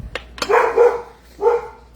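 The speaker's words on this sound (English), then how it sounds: "my dogs let me know someone's here" Dogs at a home bark at someone arriving: a couple of sharp yips, then two louder, longer barks close by, with no talking.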